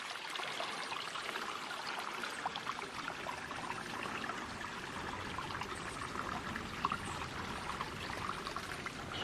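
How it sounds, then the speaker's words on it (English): Water of Kellen Creek, a salmon stream in the woods, rushes and trickles steadily at close range, a dense continuous wash with no voices. "you wouldn't know it now, but this is a salmon stream"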